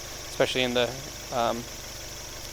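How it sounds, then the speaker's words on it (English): A Subaru EJ20 boxer engine in a 2003 Legacy 2.0GT idles with a low, steady, pulsing rumble that runs throughout, while someone talks over it in the foreground. "The boxer rumble really is a Japanese thing for the EJ20s"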